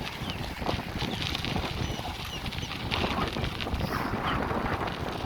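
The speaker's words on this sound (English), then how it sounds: "It's pretty windy." Blustery east wind on a beach at Lovers Key, Florida, rumbles and flutters against the microphone, a continuous rough noise with faint scattered eagle chirps and clatter behind it.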